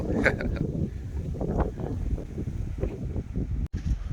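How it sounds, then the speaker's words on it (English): Strong gusting wind buffets the microphone outdoors in a garden yard, rumbling and uneven under a voice, with a sharp dropout near the end. "the wind isn't even going to stop"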